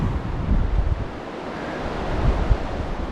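A river in the Appalachian woods near Lost Cove, North Carolina, gives a broad, steady wash of rushing water, close and continuous, with gusts of wind buffeting the microphone and no talk.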